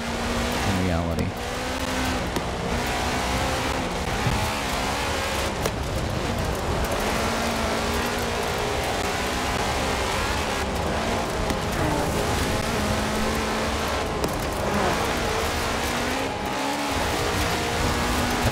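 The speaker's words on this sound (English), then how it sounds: "I feel like the cars driving past me are louder than they were in the previous game." Racing game traffic in Forza Horizon 4: steady car engine roar with passing vehicles, tire noise and revving, continuous and loud throughout, with talk over it.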